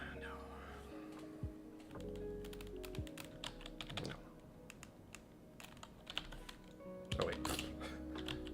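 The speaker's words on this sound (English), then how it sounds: "Typing in the word raffle and going like, why isn't anything coming up?" Computer keyboard typing with irregular bursts of clicks and taps throughout, close and moderately loud, while a person talks briefly over it.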